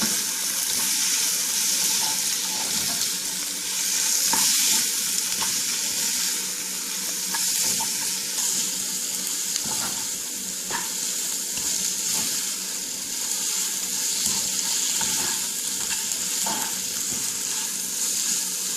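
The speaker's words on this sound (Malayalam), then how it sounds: "ഇതിലേക്ക് മല്ലിപ്പൊടിയും ചിക്കൻ മസാലപ്പൊടിയും കൂടി ചേർത്ത് നന്നായി വഴറ്റുക" Chicken roast masala with tomato, coriander powder and chicken masala being sautéed in a pan, giving a continuous, even frying sizzle with light stirring scrapes throughout.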